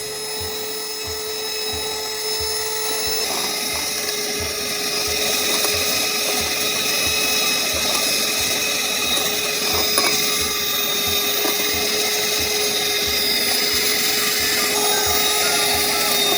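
A steady, high-pitched electric whir from an electric hand mixer beating eggs runs continuously at an even pitch, like a small motor beating at speed, with no talking.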